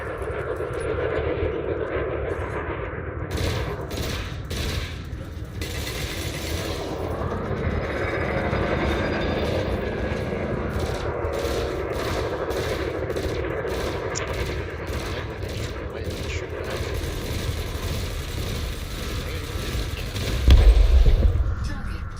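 Ship-mounted multi-cannons fire at a target drone in the game Elite Dangerous: Odyssey, giving dense, sustained rapid-fire gunfire with engine hum over about twenty seconds and a louder burst near the end.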